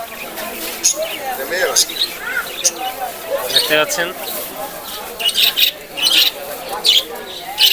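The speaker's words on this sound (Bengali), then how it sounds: "দেখতে পাচ্ছেন কবুতরগুলা এখানে কি কি আছে গুল্লা আছে গিরিবাজ আছে কিং আছে" Birds chirping and calling at a busy pigeon and bird market, with short bright tweets scattered throughout under someone talking close by.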